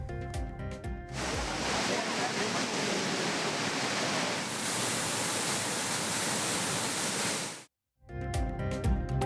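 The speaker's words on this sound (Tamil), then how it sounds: "மேற்கு தொடர்ச்சி மலைப்பகுதியில் பெய்த கனமழையால் குற்றால அருவிகளில் வெள்ளப்பெருக்கு." The Courtallam waterfalls in the Western Ghats, flooded after heavy rain, send up a dense, loud, unbroken roar of crashing water for several seconds, with brief music before and after.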